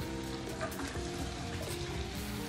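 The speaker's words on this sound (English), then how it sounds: "I have my butter melted. I'm gonna saute vegetables." Onions, celery and green and red peppers sauteing in melted butter give a steady, even sizzle that runs without a break, with faint stirring scrapes in places and no talk over it.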